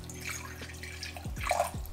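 Distilled water and aloe juice poured into a large measuring cup, heard as a brief, quiet trickle and a few soft splashes near the end of a short, faint moment.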